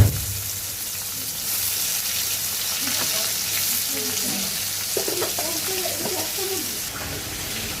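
Bitter gourd and sliced onions fry in oil in a home kitchen pan, giving a loud, continuous close sizzle with occasional stirring scrapes and brief spits; a voice speaks faintly underneath at times.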